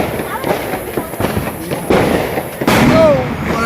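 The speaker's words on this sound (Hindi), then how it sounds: "देख सकते हो भाई मन अभी जो पटाखा फटा" Diwali firecrackers popping and banging nearby in quick irregular bursts, with a couple of sharper loud cracks and faint voices underneath.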